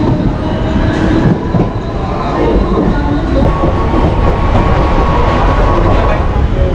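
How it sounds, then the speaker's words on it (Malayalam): A crowded Mumbai local train near CST station rumbles steadily and loudly, its continuous wheel and carriage roar filling the whole stretch with no clear pauses. "ഇതാണ് നമുക്ക് പോകാനുള്ള ട്രെയിൻ"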